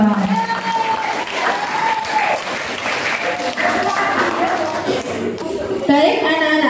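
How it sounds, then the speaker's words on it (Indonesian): Children applaud at an Islamic Maulid Nabi gathering. The clapping forms a steady, dense crowd wash for several seconds, and voices and chatter mix in throughout. "Tepuk tangan dong."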